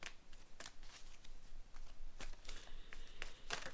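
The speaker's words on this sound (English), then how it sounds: "It is absolutely hypnotic for me to shuffle." A deck of tarot cards being shuffled by hand, a series of quick, crisp riffling bursts repeating at an irregular rhythm, close and fairly quiet, with no talking.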